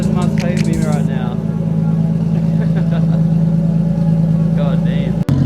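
A Nissan R33 Skyline idles loudly with no exhaust fitted, a steady deep rumbling drone heard close up and continuing throughout, with brief background sounds near the start.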